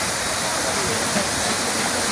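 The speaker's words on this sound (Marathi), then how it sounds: "त्या रिसॉर्टच्या आजूबाजूला खूप सुंदर असे धबधबे आहेत" A waterfall near a resort pours in a steady, loud, broadband rush of falling water, continuous and unbroken throughout.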